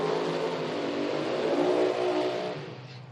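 A Mini Cooper drag racing car runs down the strip at an IHRA Outlaw Nitro Series event, its engine holding a steady, buzzing drone that fades slightly toward the end.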